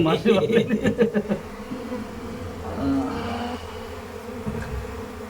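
Honey bees buzz loudly and close around a beekeeper at his hives, a dense droning hum with rhythmic pulsing at first that fades to a lower steady buzz, with voices talking nearby.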